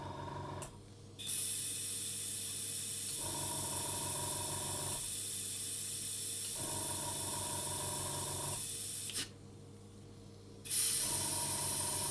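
An airbrush sprays VMS airbrush cleaner tinted blue with windscreen washer fluid. Close, steady hissing bursts run for several seconds each, separated by short pauses with a low mechanical hum underneath.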